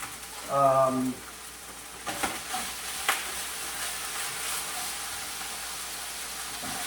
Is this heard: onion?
yes